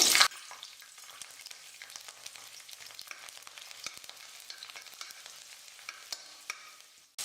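Garlic cloves with mustard seeds and fenugreek frying in hot oil for a Tamil vatha kuzhambu, a steady soft sizzle with faint crackles and pops, a brief louder burst at the very start, no voices.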